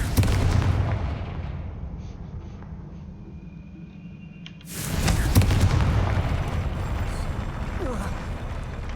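In the video game Hogwarts Legacy, a Confringo spell detonates with a sudden loud blast that cuts in partway, following a stretch of low rumbling ambience, then leaves a sustained roaring, crackling aftermath; a voice speaks before the burst.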